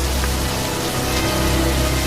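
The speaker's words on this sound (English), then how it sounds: "Come on out of the rain now. You're gonna get pneumonia." Steady, dense rain falls outdoors in an even hiss, loud and close, with no break across the short stretch.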